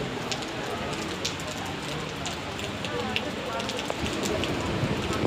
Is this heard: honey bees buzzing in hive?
no